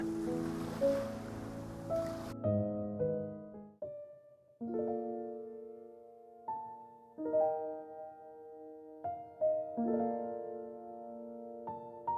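Ocean surf washing onto a clean beach in a video game, a brief wash of soft rushing noise at the start that gives way to gentle melodic tones.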